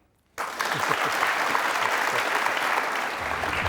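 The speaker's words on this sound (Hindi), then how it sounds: "तालियां।" A studio audience at a televised courtroom-style interview show breaks into sudden, loud, sustained applause that fills the room and continues steadily to the end.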